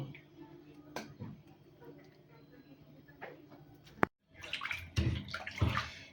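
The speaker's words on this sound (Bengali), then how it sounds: "শাকটা আমি গরম পানি থেকে তুলে এই ঠান্ডা পানির মধ্যে দিয়ে দিব।" Blanched spinach lifted from hot water and dropped into a bowl of cold water, faint handling and ticks first, then a sharp knock followed by close splashing and sloshing.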